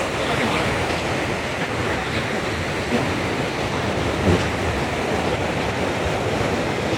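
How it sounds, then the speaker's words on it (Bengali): Heavy surf roars steadily on Puri beach under a cloudy sky, a loud, continuous wash of breaking waves mixed with wind buffeting the microphone, with no speech. "এই সেই গর্জন, সমুদ্রের গর্জন একটা আলাদা"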